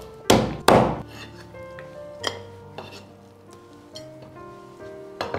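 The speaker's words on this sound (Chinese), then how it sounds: "鱼骨给它剁一下。" A knife chops through the bones of an albino grouper on a board, with two heavy, sharp thuds close together, followed by a few lighter, scattered knocks.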